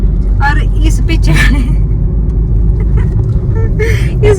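A car creeping slowly along a rough, broken road on the Kullu–Mandi route, its low engine rumble steady and close while people talk over it and the body knocks on the uneven surface.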